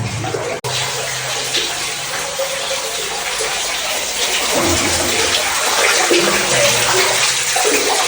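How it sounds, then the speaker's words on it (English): Water dripping and trickling inside a cave reached by kayak, a steady wet wash that runs throughout and grows slightly louder and fuller in the second half. "It's really dripping water through here"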